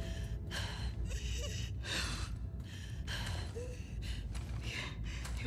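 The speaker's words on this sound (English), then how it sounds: "Your breathing's worse." A wounded character in The Last of Us Part II breathing heavily, a series of loud, ragged gasping inhales and exhales in an uneven rhythm, close and alone.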